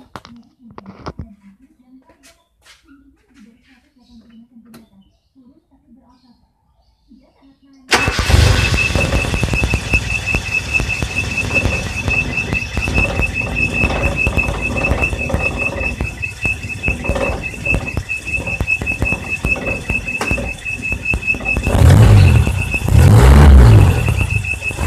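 Engine cranked on the starter after a custom zero-resistance ground cable was fitted to a bottle coil: quiet handling sounds, then a sudden loud catch and steady close running with a high whine, revving near the end.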